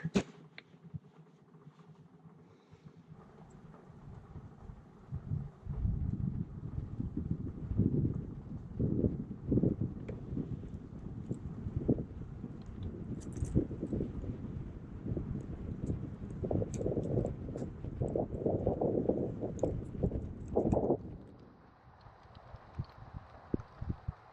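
Wind gusts across a lakeside campsite at Mahood Lake, a rumbling, buffeting rush against the microphone that swells through the middle and eases toward the end.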